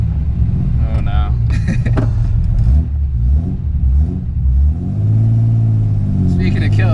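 A 1972 Datsun 240Z engine revs under throttle inside the moving car, its low rumble swelling and easing in uneven bursts beneath voices talking.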